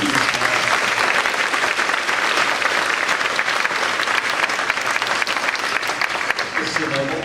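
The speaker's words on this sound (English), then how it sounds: "let's give a round of applause" Audience applause fills a D.A.R.E. graduation ceremony at Kensington Elementary, a steady, dense wash of many hands clapping that holds at full strength throughout without a break.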